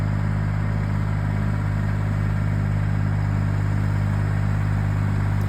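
A slow tractor drags a land plane across dirt to smooth it on an off-grid homestead, its engine droning steadily and loudly up close with no talk over it.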